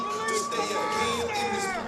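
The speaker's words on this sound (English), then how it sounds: "the crowd going wild here for local fighter Stephen Tuggle" A crowd cheers and roars for local fighter Stephen Tuggle at a fight event, with a loud announcer's voice ringing over the steady cheering.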